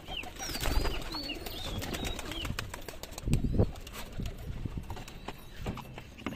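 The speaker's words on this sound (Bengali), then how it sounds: "পায়রাগুলোকে খেতে দিয়ে দিই।" A flock of high-flying Giribaz pigeons is fed a mix of rice and wheat. Soft cooing, bursts of wing flapping and quick pecking taps come close together with no talk.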